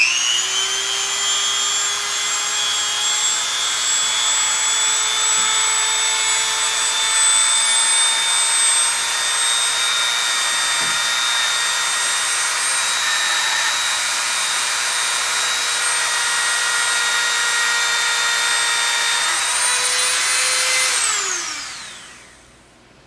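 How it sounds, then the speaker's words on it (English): A high-pitched Dremel rotary tool drilling into a plastic doll head whines steadily for about twenty seconds, its tone holding even before spinning down at the end. Nearby and loud, with no talking. "I'm just going to drill the hole into the base of her head to put the braid in"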